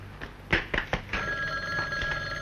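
An old-style telephone bell rings in a few sharp bursts, then settles into a sustained electronic ringing tone, fairly close.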